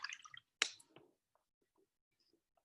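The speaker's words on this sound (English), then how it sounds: "I'm gonna clean out that brush" Watercolor brush rinsed in a water jar: a quick close splash and swish, then faint drips and small taps fading into quiet.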